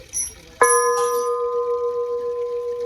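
A single bell struck once and left ringing, its bright tone sustaining and slowly fading over a few seconds, loud and close after a brief rustle, with no talk.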